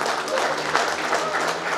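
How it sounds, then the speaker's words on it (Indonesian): An audience claps at a ceremony naming a pendapa hall at a Central Java cultural park. The applause is dense, steady and sustained, close and fairly loud from start to finish. "Boleh kita berikan tepuk tangan paling hangat pula."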